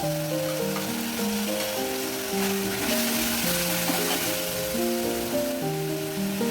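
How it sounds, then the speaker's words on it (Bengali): Masala with cashew and poppy seed paste frying in a pan gives a steady, loud sizzle with stirring that continues unbroken; tonal background music plays along, and no one speaks. "কাজু পোস্ত বাটা এবার দিয়ে দিলাম এইবার ভালো করে কষিয়ে নেব"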